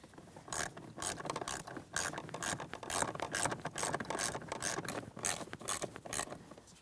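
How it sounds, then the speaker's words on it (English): A ratchet wrench snugs down the plastic-mounted screws of a blower motor resistor on a 2007-2014 GMC Sierra 2500 HD, giving steady rapid clicking bursts close up with no talk. "Let's go ahead and snug them up."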